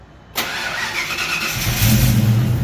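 A Ford Foxbody Mustang with Megasquirt engine management cranks briefly and fires right up, settling into a loud, close, steady idle that rises slightly.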